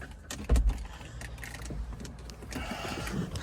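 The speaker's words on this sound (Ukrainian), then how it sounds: "Заведемо автомобіль" A Mercedes B-Class engine turns over with a short low thump, then settles into a steady running rumble close by, with small rattles at the start.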